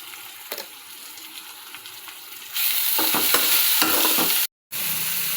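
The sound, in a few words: tomatoes frying with salt and turmeric for poha upma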